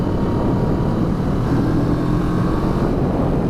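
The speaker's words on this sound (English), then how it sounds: "Still has that really, really nice induction growl." A 2015 CFMOTO 650NK motorcycle engine pulls hard under full throttle in gear, a loud, steady induction growl with heavy low rumble that continues unbroken throughout.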